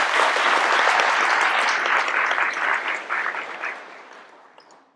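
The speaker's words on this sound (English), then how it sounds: "We can give them a round of applause real quick." An audience at an academic conference awards session bursts into loud applause, dense clapping that holds steady and then thins and fades out over about five seconds.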